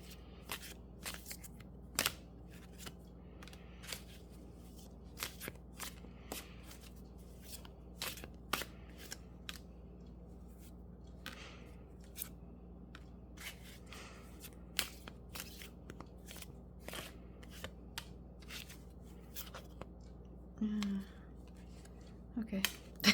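Tarot cards being shuffled by hand during a reading, heard as faint, scattered soft riffles and flicks over a quiet low hum, with a brief voice near the end.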